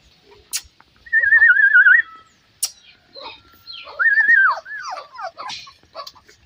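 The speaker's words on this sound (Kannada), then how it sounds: "ಅಲ್ಲೊಂದು ಪಪ್ಪಿ ಓಡೋಗ್ತಿದೆ." Puppies at morning play, among them beagle, Shih Tzu and golden retriever pups, letting out loud close high whines and yelps in two long wavering bursts, with sharp short barks and scattered scuffles between.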